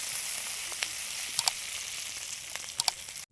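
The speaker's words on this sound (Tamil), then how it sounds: "இன்னும் நல்லா பொன்னிறம் ஆற வரைக்கும் இப்படியே வதக்கலாம்" Chicken curry ingredients sauté in a pan over a wood fire, sizzling and frying in a steady close hiss with a few soft stirring taps.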